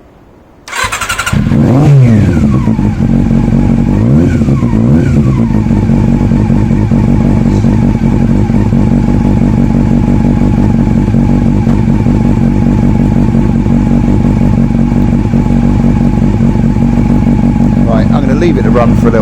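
A Honda CB400 Super Four motorcycle engine starts with a clattering burst, then revs in a few swells before settling into a loud, steady running note close by, with a rev near the end.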